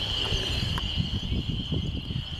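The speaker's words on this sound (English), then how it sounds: "Can you hear the spring peepers?" Spring peeper frogs call outdoors in spring, forming a continuous high-pitched chorus of trilling peeps that sounds moderately distant against low rumbling background noise.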